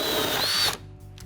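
A power drill whirs loudly up close as it bores a large-diameter hole in wood, then cuts off abruptly, leaving a faint mechanical hum.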